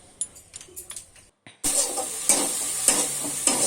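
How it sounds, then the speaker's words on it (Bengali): Potato curry cooking in a pan, with stirring scrapes and a steady sizzle of frying that grows louder after a brief pause, with rhythmic stirring strokes repeating close by and no talk. "ওই যে দেখো, আলুর তরকারি আমি বসিয়ে দিয়েছি।"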